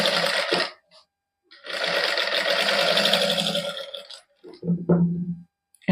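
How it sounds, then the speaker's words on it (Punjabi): Sewing machine stitching the neckline of a women's suit, running in two loud, steady bursts of rapid whirring with a short pause between, then a few brief clicks and handling knocks at the end. "ਹੁਣ ਇਹਦੀ ਸਿਲਾਈ ਲਾ ਲੈਨੇ ਆ"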